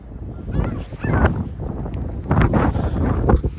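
Geese honk repeatedly outdoors as they are fed bread, their calls coming in loud bursts over heavy wind buffeting the microphone.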